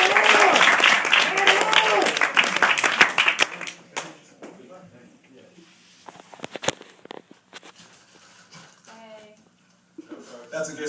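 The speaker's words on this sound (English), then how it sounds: "So give a big round of applause for Connor, everybody." Audience clapping at a stand-up comedy open mic, loud at first over a spoken introduction, then thinning to scattered claps and fading into quieter room noise before talking resumes.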